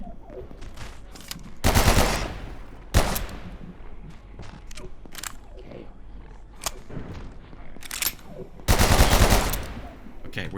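Bursts of automatic gunfire from weapons in the video game Abiotic Factor, two long loud volleys and several shorter single shots scattered across the span, with quieter game ambience between.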